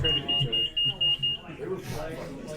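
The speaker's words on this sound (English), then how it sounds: "Go ahead and buzz." Quiz bowl contestant buzzers tested at a gaming event, giving a series of about six short, high electronic beeps in quick succession, then murmuring voices.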